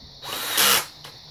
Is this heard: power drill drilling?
yes